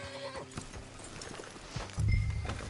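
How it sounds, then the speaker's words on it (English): Horses' hooves clip-clop on the ground in the Red Dead video game, a steady rhythm of hoof beats with a brief whinny, getting louder and heavier near the end as the animals come close. "Let's leave the horses here and go the rest on foot."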